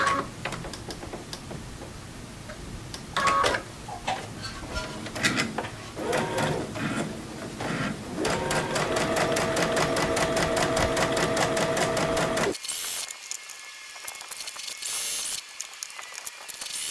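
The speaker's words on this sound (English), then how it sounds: "then I'm just going to chain stitch them just like I always do." A sewing machine chain stitches quilt pieces in fast rhythmic mechanical runs, starting and stopping several times with short pauses between seams, close and clear with no talking.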